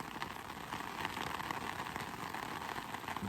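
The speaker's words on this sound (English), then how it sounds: "it's still raining" Steady soft patter of rain on a poncho shelter in a rainstorm, a faint continuous hiss of drops without any talk.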